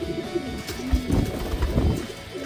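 Racing pigeons coo at a pigeon loft during a training race, repeated low throaty calls close by, over faint background noise.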